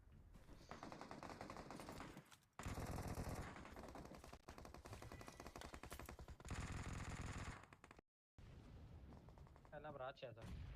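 Rapid automatic gunfire bursts from a battle royale video game, loud and sustained across the clip with brief gaps and a short silence near the end, followed by fainter shots.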